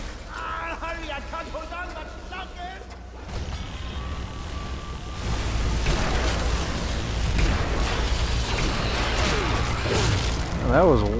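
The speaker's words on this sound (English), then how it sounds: "That was one hell of an explosion." A video game explosion bursts into a long, rumbling roar that fills several seconds, with mechanical clatter and a person talking over it.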